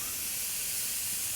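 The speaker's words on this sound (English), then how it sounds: "Oh, that sizzle." Steady, bright sizzling hiss of venison burgers frying in a hot pan, close and continuous.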